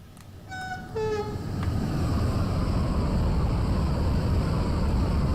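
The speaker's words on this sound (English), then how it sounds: "let's watch the train going along" Simulated train in Train Sim World 2 on the Luzern–Sursee line, watched from the trackside as it passes: two short horn blasts, then a loud, steady rumble that builds and holds as the train rolls by close.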